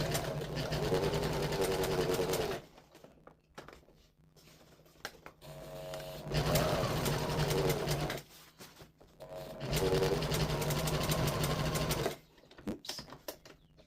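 A home sewing machine runs in three bursts of a couple of seconds each, whirring steadily as it top stitches a tote bag at a longer stitch length, with short quiet pauses between runs.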